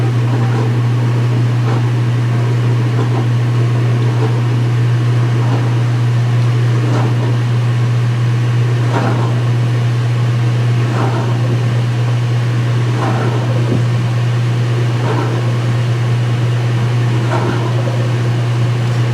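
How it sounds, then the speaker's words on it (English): A washing machine pump running under load gives a steady low hum, with faint surges returning every couple of seconds over an even mechanical whir. "Every time the pump makes that sound, the wattage goes up."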